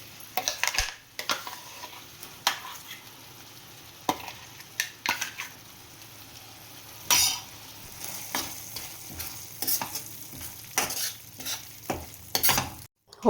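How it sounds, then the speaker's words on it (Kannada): Cashew and onion paste frying in a pan gives a soft, steady sizzle with scattered clinks and scrapes of a utensil against the pan, close and fairly quiet. "ಈಗ ಗೋಡಂಬಿ ಮತ್ತು ಈರುಳ್ಳಿ ಪೇಸ್ಟ್ ಹಾಕ್ಕೊತಾ ಇದ್ದೀನಿ."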